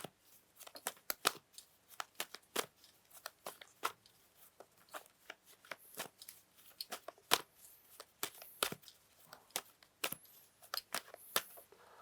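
Tarot cards are shuffled over and over, soft crisp riffles and flicks in quick irregular bursts, close and quiet.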